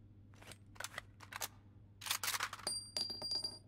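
Quick metallic clicks and clacks of an AK rifle's tactical reload in a VR shooter, a few sharp transients followed by a denser burst of mechanical rattles, close and fairly quiet with no talking.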